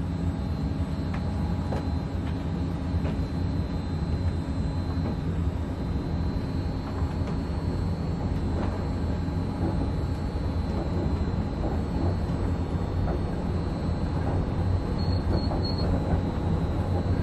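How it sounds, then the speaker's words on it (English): Disneyland Monorail train running at the resort, heard from the front seat: a steady, continuous rolling rumble of wheels and motor with faint high squeals, no talk, constant and close throughout. "welcome aboard the Disneyland Monorail"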